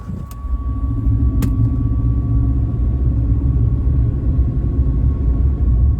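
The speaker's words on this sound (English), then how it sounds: "currently sitting in traffic" Interstate traffic heard from inside a car, a steady low road rumble and engine drone, loud and continuous, with a couple of brief clicks near the start.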